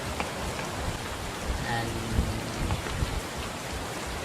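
Dynamic weather rain with thunder, generated in Unreal Engine 4. Steady, dense hiss of rain falls on a surface, with low rumbles running beneath, and a voice speaks briefly partway through.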